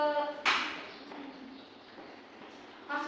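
A short burst of hand clapping in a third-grade classroom rises and fades within a second, with brief speech before and after it.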